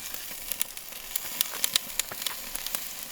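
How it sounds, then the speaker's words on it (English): Rack of lamb searing directly over the fire on a Weber kettle grill, giving a steady quiet sizzle and hiss broken by scattered sharp crackles and pops, close up with no talking. "So, to sear them, I'm just going to take them and put them right over that fire."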